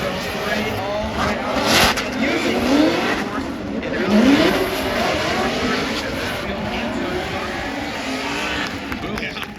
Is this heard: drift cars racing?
yes